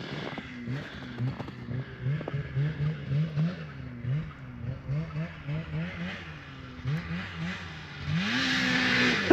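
A Polaris XC 700 snowmobile engine revs in repeated rising bursts after a top-end rebuild, each rev climbing and falling in a steady rhythm, ending in a longer sustained high rev.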